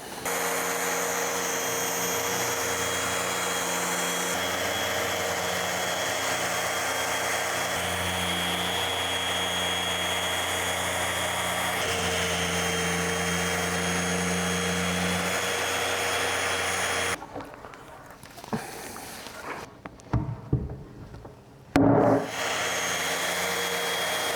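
Power sanding of glue off a wooden table: a loud, steady whine with shifting pitch runs for about seventeen seconds, then cuts out, leaving quieter scattered bumps and scrapes, close by with no talk.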